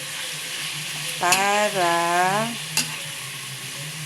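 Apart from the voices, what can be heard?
chicken frying in pan for adobong manok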